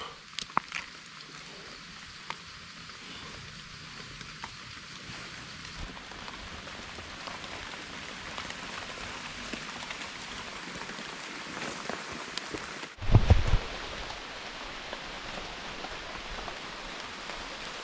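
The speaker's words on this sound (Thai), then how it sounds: "ฝนตกลินลินบรรยากาศอากาศเย็นดี" Soft, steady light rainfall patters gently for a long stretch in a high mountain forest, faint and even, with a brief louder knock near the end.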